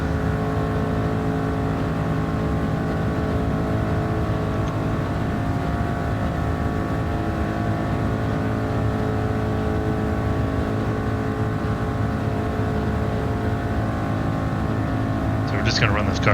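Ford Mark IV race car from 1967 in Gran Turismo 7 on Special Stage Route X, its engine droning at a steady, sustained pitch throughout, loud and close with no break, with a brief high-pitched sound near the end.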